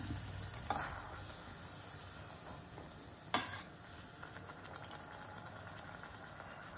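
Thin slices deep-frying in cold-pressed sesame oil for a gooseberry pickle give a faint, steady bubbling sizzle, broken by a few soft scrapes and one sharp utensil clack, heard close and quiet.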